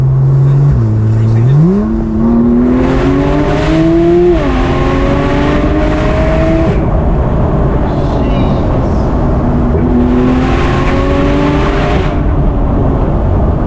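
A Porsche 911 Turbo S engine revs hard at full power in sport mode, its pitch climbing through gear changes, loud and close, with brief roaring bursts.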